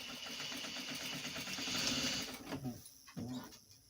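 A sewing machine runs a short burst of back stitching on boxer shorts fabric, a steady close mechanical whir with rapid stitch pulses that stops abruptly, followed by a couple of brief restarts.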